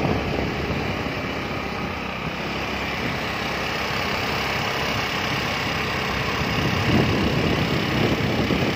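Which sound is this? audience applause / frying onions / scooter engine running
scooter engine running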